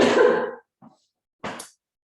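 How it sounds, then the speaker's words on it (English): A person coughs and clears their throat in a home kitchen during a festive free-from baking demonstration: one harsh, loud, rasping burst, a tiny catch, then a shorter second clearing after a pause. "I'm going to cough."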